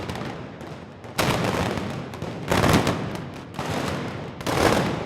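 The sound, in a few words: arquebus shots fired at Alcoy Moors and Christians fiesta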